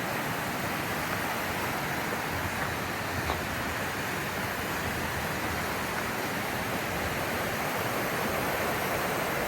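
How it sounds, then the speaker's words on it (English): A creek flows beside a hiking trail, its rushing water forming a steady, dense wash of noise that stays even and unbroken throughout, with no voices. "we have a creek next to us"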